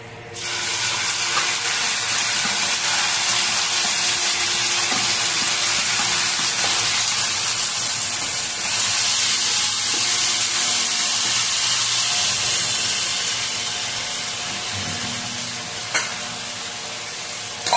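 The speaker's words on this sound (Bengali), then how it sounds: "মশলাটা আস্তে আস্তে ভাজা হোক।" A paste of onion, tomato, melon seeds, cashew and ginger fries in a pan, giving a loud, continuous sizzle that runs unbroken for the whole stretch with only faint utensil taps.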